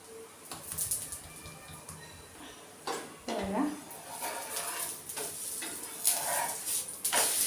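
A thalipeeth flatbread roasting in oil on a pan, with soft sizzling, intermittent scraping and clinks of a utensil against the pan, and a few louder clanks, all close by.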